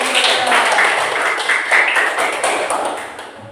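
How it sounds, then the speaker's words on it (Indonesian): Students clap together during a school floor gymnastics lesson on forward rolls, a dense, steady patter of many hands close by that thins slightly toward the end, with faint voices mixed in. "Oke, tepuk tangan."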